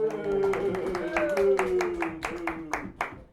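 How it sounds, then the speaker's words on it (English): Students in a classroom clap, sharp separate handclaps in a quick irregular run, near and fairly loud, while a voice carries on over the start. "I want everyone to give this numpty a round of applause."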